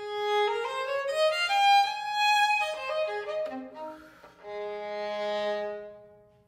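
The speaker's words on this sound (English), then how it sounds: "I play the Baroque violin." A Baroque violin, an older form of the violin, plays a solo melodic phrase, its bowed notes rich in overtones and moving smoothly between pitches, close and clear with no accompaniment or talking.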